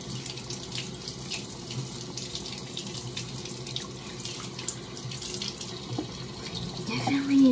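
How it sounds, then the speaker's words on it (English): Tap water runs steadily into a sink while a dirty, unusual rock is rinsed under the stream, a continuous close splashing hiss with small shifts as the rock and hand move through the flow. "I'm gonna rinse it though."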